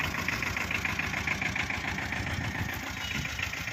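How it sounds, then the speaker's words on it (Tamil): The engine of a 2012 Tata Ace load vehicle idles close by with a steady, even rumble and a faint rhythmic knock throughout. "பார்த்துங்க, வண்டி ரன்னிங்கில் இருக்குது."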